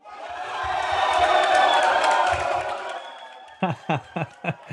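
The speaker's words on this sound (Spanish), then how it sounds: "¡Aplausos!" A studio audience erupts in loud cheering, whoops and clapping to welcome a guest, the swell rising and fading over a few seconds before ending in a short burst of rhythmic claps.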